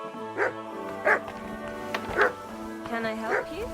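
A dog in Kingdom Come Deliverance 2 gives four spaced, yipping barks over about four seconds, close and clear against a rich layered game ambience.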